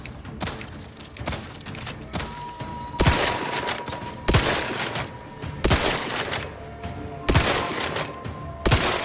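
Repeated gunfire from a first-person shooter, The Outer Worlds 2, with sharp loud shots and bursts spaced through the run over a busy layer of game effects and ambience.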